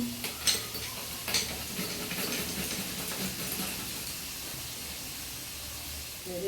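Onion, tomato paste, ginger and garlic fry in a pan with a steady, close sizzle, while a utensil stirs and scrapes through the mixture in a few louder knocks early on.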